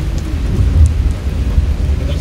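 Heavy rain pouring at the Mawa ferry ghat, a loud, dense roar with deep rumbling under it, steady throughout the short stretch with no voices.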